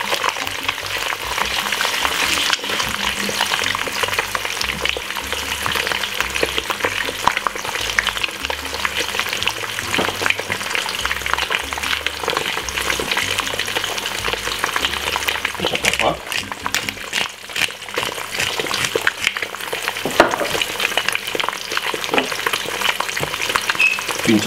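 Eggs frying in a pan for breakfast alongside bacon, with a steady, close sizzle and crackle that runs the whole time, rising in short bursts of spitting oil.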